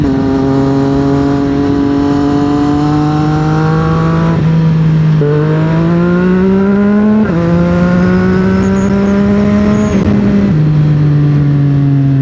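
A 2025 CFMOTO 675SR-R sport motorcycle engine drones steadily while riding, its loud, close tone climbing through the gears in several smooth rises, each broken by a brief dip at a gear change.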